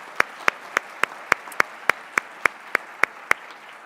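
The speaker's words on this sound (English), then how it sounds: "Let's say a special thank you with a round of applause to all of our adjuncts" Slow, evenly spaced claps at a university winter convocation, about a dozen sharp isolated hits at a steady rhythm, fairly close and moderately loud, with no talking over them.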